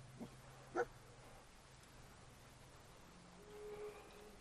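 A dog in the game Fallout 4 gives a couple of faint, brief whimpers and yips early on, then a soft whine later, quiet over a low background hum.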